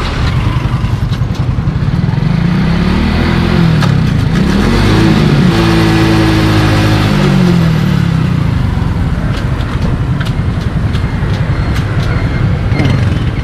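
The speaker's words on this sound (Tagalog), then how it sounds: "I-start mo ulit yung makina, paandarin mo hanggang 4th gear." A delivery rider's motorcycle, just repaired after its chain came off, is restarted and revved up through the gears to fourth, the engine note rising and falling in repeated sweeps over steady loud engine noise.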